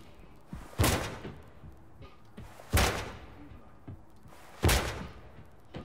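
Gunshots striking a shield in the video game Ready or Not: three sharp, heavy bangs about two seconds apart, each with a short ringing tail, over a low background.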